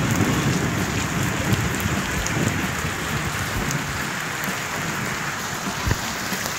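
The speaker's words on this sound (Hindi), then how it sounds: "बारिश भी आ गई है, लेकिन बहुत तेज़ बारिश।" Heavy summer rain pours down at night, a thick steady hiss of drops with low rumbling undertones and an occasional heavier thump, continuous and close.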